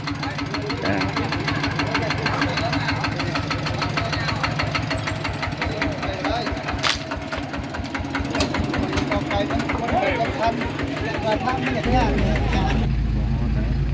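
A small walking tractor engine pulling a funeral procession in Laos chugs steadily nearby with a fast, regular knocking beat, running for the whole stretch with voices faintly underneath.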